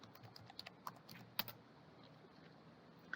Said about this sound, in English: We'll get started by typing a topic into the search box.